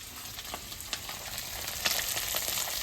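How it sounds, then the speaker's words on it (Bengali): Small fish fry in hot oil, giving a close, continuous sizzle broken by sharp crackles and pops that grow a little louder toward the end. "মাছ যখন উল্টানো হয়ে গেছে, অর্ধেক ভাজা হয়ে গেছে"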